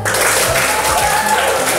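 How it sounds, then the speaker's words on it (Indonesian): Students in a classroom clap together in a short, dense burst of applause lasting under two seconds, close and fairly loud. "Tepuk tangan untuk Fatur."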